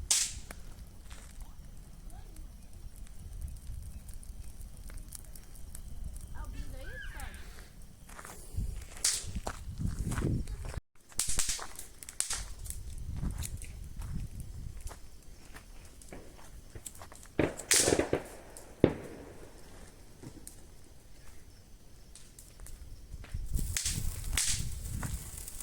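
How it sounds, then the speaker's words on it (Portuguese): A São João festival bonfire in rural Bahia crackles and pops with irregular sharp snaps over a low rumbling burn, mixed with footsteps and scattered outdoor noise. "Olha, fogo na fogueira."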